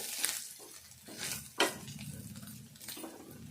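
Chili powder frying in oil for a sour dried-fish curry, giving a steady soft sizzle with intermittent stirring scrapes and brief clinks of a spoon against the pan.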